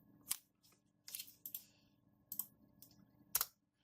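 Keys on a computer keyboard being pressed, including the Enter key: a handful of crisp, separate clicks spaced unevenly, close and fairly quiet, with no talking.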